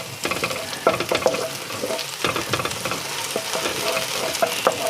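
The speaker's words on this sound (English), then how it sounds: "Next thing, we put in our green onion, or our spring onion." Spring onion sizzles and crackles in hot frying oil in a wok while fried rice is being made, with steady close frying hiss broken by stirring scrapes and occasional louder pops.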